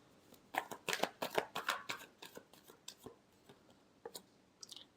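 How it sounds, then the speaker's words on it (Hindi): Tarot cards shuffled by hand in a quiet room, a quick run of soft riffling snaps and taps in bursts, close and crisp, trailing off into a few scattered flicks. "Last shuffle."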